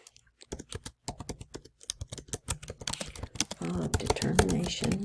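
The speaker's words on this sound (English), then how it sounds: "let me see if I can type this out for us" Typing on a computer keyboard, a steady run of crisp key clicks close by that turns into quicker clustered keystrokes, with a voice faintly audible beneath toward the end.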